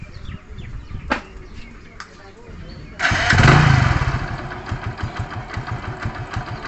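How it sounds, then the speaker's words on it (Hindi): A motorcycle engine cranks and catches, then settles into a steady, pulsing idle near the microphone, with scattered clicks and handling noises before it fires. "मैं बाइक को स्टार्ट करता हूँ, देखता हूँ कि गाड़ी अभी कितने RPM में है।"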